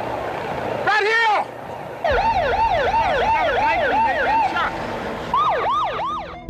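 Wailing ambulance siren, loud and close, sweeping up and down in repeated cycles with brief breaks, over heavy road noise.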